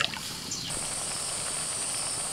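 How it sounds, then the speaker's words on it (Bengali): Water poured into a simmering mustard masala for a bhola fish curry gravy gives a soft, steady trickle with faint hissing from the hot pan, a high thin sizzle rising partway through, no voice present. "গ্রেভি করার জন্য আরেকটু জল দিয়ে দিচ্ছি"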